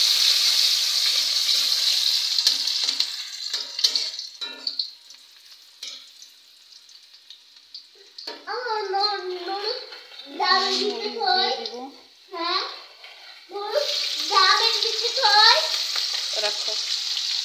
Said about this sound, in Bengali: তেলটা গরম হয়ে গেছে, এই পর্যায়ে আমি পেঁয়াজটা দিয়ে দিই।